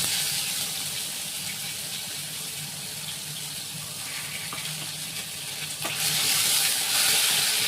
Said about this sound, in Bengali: পেঁয়াজটা একটু হালকা ভাজা ভাজা হবে।